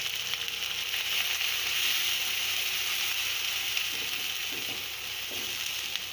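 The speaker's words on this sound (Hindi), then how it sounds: "अब हम इसमें प्याज डालेंगे।" Finely chopped large onion sizzling in a pan of already-fried garlic over a low-to-medium flame, a steady, close, hissing fry that runs on without talk.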